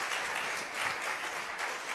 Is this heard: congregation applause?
yes